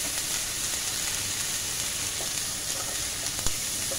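Onion paste fries in oil for a pabda fish curry, giving a close, dense, even sizzle with a faint stir near the end.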